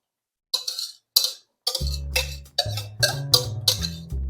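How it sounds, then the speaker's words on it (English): A spoon scrapes around a mixing bowl of banana and zucchini bread batter in several short, rough strokes, with a steady low hum joining partway through. "Sorry about the noise there of the scraping."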